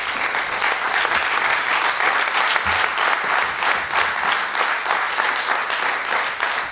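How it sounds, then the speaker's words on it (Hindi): A crowd claps continuously to honour retiring staff at a farewell ceremony where shawls and silver coins are presented, a dense and steady applause running the whole time. "सभी तालियां बजा करके इनका सम्मान बढ़ाएं।"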